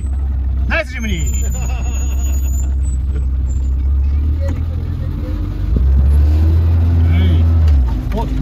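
Four-wheel-drive vehicles such as Suzuki Jimny driving around at a 4WD festival, a steady low engine rumble rising toward the end as one revs, with people talking over it.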